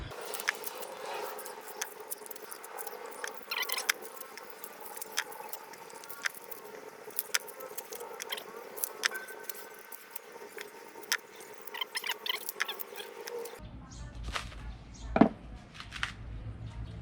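A knife pokes into a coconut husk, breaking it up and tearing off the fibres in a series of faint, close crunching, snapping and ripping sounds, with a short quieter stretch near the end.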